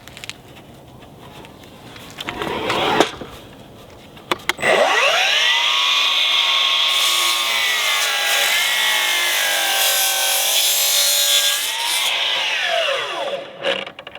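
A Milwaukee M18 Fuel 12-inch dual-bevel cordless miter saw cutting through a 2x12 board: a few handling knocks, then the motor whines up to speed, holds a loud, steady cutting roar for about eight seconds, and spins down.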